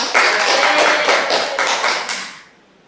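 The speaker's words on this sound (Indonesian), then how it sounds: "Tepuk tangan untuk Fajri" A small classroom group claps for a student during a biology microteaching lesson, a close, rhythmic burst of hand claps in regular pulses that fades out near the end.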